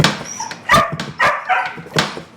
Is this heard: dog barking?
yes